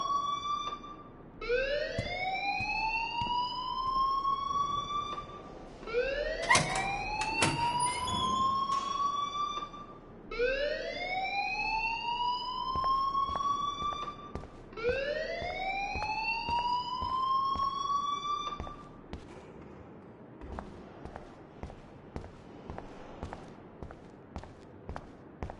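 Alarm siren in the video game Life is Strange, with repeated rising electronic wails sweeping upward, each lasting a few seconds, four cycles in a row before it stops, loud and close with faint footsteps and background clatter.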